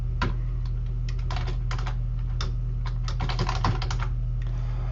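Close, rapid clicks of a computer keyboard as code is typed, in irregular bursts and short pauses over a steady low hum, with no one speaking.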